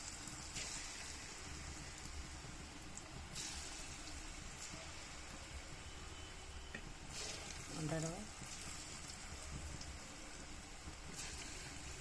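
Sago fritters, saggubiyyam punugulu, fry in hot oil with a steady, soft bubbling sizzle that runs throughout, faint and even, with a brief swell near the middle.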